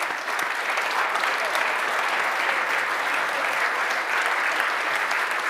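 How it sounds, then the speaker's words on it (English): A room full of people applauds award winners at a finale event, loud dense clapping that holds steady for several seconds without a break. "Give it a big applause"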